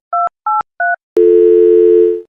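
Three short two-tone telephone keypad beeps in a steady rhythm, then a loud continuous dial tone that holds for about a second before cutting off.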